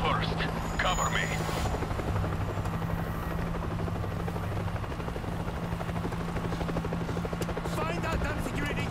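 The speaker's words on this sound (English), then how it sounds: "I'm going to use the helicopter to draw them away from the bay." A helicopter in the video game World War Z beats with a loud, steady rotor thrum throughout, while a voice talks over it.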